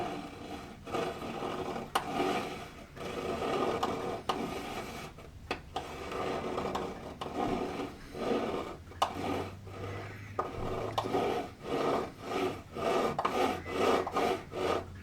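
A hand saw cuts along the wooden keel of a model ship in close, rhythmic rasping strokes that quicken and become more regular toward the end.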